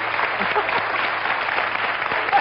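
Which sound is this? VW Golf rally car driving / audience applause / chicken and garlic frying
audience applause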